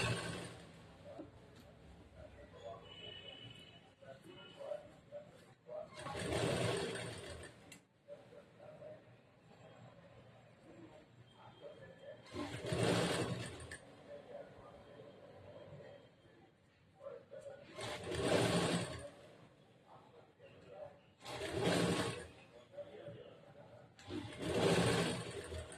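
Domestic sewing machine running long basting stitches on a blouse sleeve, in several loud bursts of whirring a few seconds each, separated by quieter pauses and low background noise.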